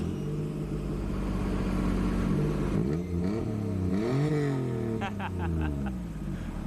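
Drift car at a Japanese drift festival starts up and revs with rising and falling engine pitch through a twin-tip exhaust, loud and close, with people talking over it.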